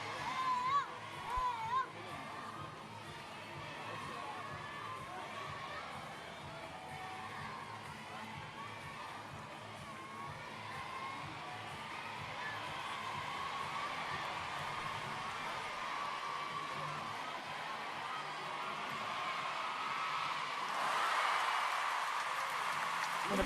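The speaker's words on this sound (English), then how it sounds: "Well, a big cheer goes up." A crowd at a gymnastics competition on the parallel bars cheers and applauds, a continuous roar of shouts and claps that builds toward the end, with a commentator talking over it.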